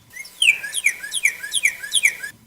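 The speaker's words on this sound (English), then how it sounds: "That's a goddamn cardinal." A cardinal sings outdoors, a clear series of about six to eight rapid down-slurred whistled phrases repeating in quick rhythm, close and prominent over faint background.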